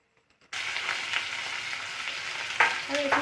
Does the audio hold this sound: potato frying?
yes